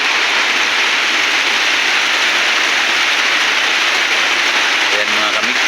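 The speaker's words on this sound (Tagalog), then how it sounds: "Lakas ng ulan na naman mga kamigo." Heavy rain pours steadily in a dense, constant hiss throughout a stormy downpour with strong wind, loud and close, with no voices over it.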